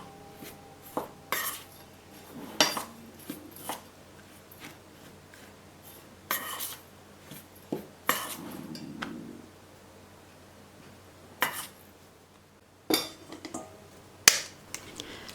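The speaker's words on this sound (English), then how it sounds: "So mix all of these dry ingredients and let them aside." Dry cake batter ingredients with coconut flakes stirred in a bowl, heard as scattered soft scrapes and light clinks of a utensil against the bowl, with quiet gaps between strokes and no talking.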